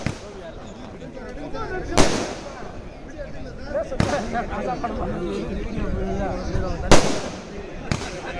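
Fireworks bursting over the Kodaikanal hills, four sharp booming cracks spaced a couple of seconds apart with crackling in between, while a crowd chatters throughout.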